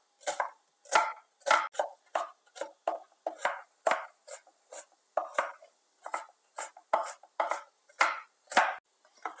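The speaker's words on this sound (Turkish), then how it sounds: "Bir adet kuru soğanımızı normal yemeklik olarak doğrayacağız." A dry onion is chopped with a knife on a cutting board in a home kitchen, about two dozen crisp, close knocks in a steady, slightly uneven rhythm with no talking.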